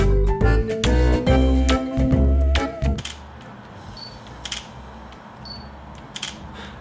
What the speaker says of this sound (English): I don't like the shutter. I mean, it doesn't feel or sound particularly solid.